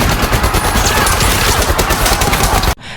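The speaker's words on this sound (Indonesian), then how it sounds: "Donnie dan Omar memberondongkan tembakan ke arah mereka" Machine-gun fire from a film scene rattles out in a loud, rapid, continuous burst that stops abruptly near the end.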